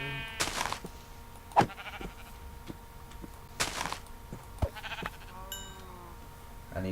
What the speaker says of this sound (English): so I'm gonna have to kill 3 sheep.